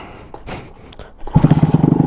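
A Honda CBR600RR motorcycle engine cranks and fires into a steady, loud, rapidly pulsing idle after a quieter start with a few faint knocks.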